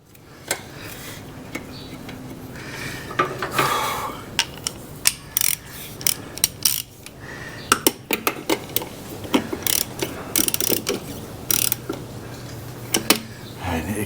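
Ratchet clicks come in bursts while wheel nuts are run onto a Honda Goldwing motorcycle wheel, a close mechanical clatter with irregular pauses between the pawl ticks.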